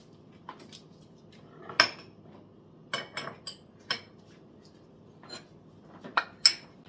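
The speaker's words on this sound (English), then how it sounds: "Just give it a quick mix until that develops." Bolillo bread dough being mixed quickly in a bowl, heard as a series of irregular clinks and scrapes of a utensil against the bowl, close and sharp with quiet gaps between.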